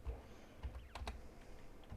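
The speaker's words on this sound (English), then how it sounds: "I find it quicker to just simply use my keyboard" Quick computer keyboard typing, a few sharp key clicks clustered near the middle plus softer taps at the start and end, close and fairly quiet in a calm room with no talking.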